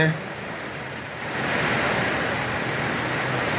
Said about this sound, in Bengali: কালবৈশাখী ঝড় হচ্ছে